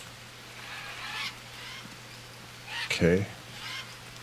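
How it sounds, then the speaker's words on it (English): Jungle birds in the survival game Green Hell honk and call in a few scattered bursts, with one louder goose-like honking cluster standing out. A voice speaks briefly over them. "Wow, there's a lot of birds here."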